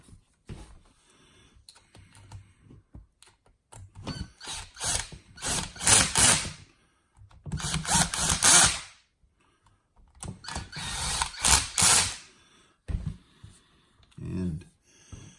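Small screws being tightened into a TLR starter box mechanism: bursts of rapid clicking, ratcheting and scraping come and go in clusters, fairly close, with faint handling noises between them.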